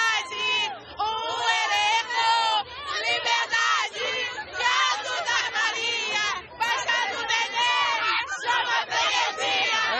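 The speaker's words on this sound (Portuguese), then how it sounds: "Vamos ver aqui o pessoal cantando samba." A large crowd sings samba together at the Viradouro samba school's court, celebrating the school's long-awaited title with loud, continuous chanting voices and whoops.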